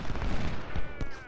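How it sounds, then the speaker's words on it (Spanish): Artillery fire in the video game Ultimate General Civil War, dense rumbling booms and crackling volleys over a continuous battle din, loud and close. "Está sufriendo aquí disparos de la artillería, sobre todo."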